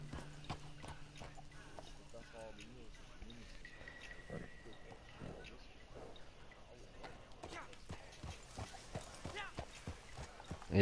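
Horse hooves clip-clopping in a video game, a steady rhythmic run of hoofbeats heard under ongoing talk and game music.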